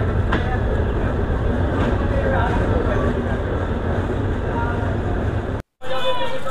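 The Sundarban Express rolls along after leaving Faridpur, a loud, steady rumble and clatter heard from on board, broken by a brief dropout near the end.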